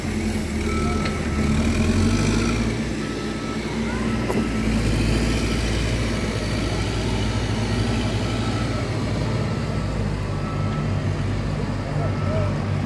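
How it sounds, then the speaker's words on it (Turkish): Asphalt road works with ground levelling machinery on a town street in Şefaatli, a steady loud engine rumble and broadband roar throughout, with a voice speaking over it. "Hacı Bayram Karabulut Caddesi'nde asfalt çalışması bu. Zemin düzeltme çalışması devam ediyor an itibariyle."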